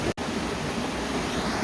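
A small waterfall along the Bear Canyon trail in winter pours over slick rock into a shallow divot, giving a steady, close broadband rush of falling water with one brief dropout near the start.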